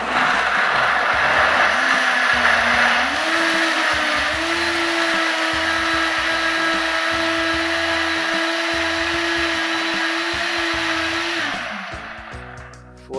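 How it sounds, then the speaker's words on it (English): A high-powered, heavy-duty blender grinds coconut at full speed, a loud steady motor whine that rises in pitch early on, holds for several seconds and then winds down near the end. "Your good, high-powered, heavy-duty blender."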